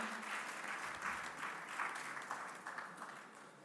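Sustained, even applause fills a conference hall as a panelist is welcomed onto a discussion panel, a dense wash of many hands clapping continuously at moderate loudness.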